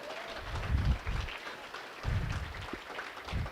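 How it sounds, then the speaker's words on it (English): Audience applause at a lacrosse awards night, rising in several bursts of clapping with a lull between, moderately loud and roomy over low murmur. "So if you want to give them a round of applause."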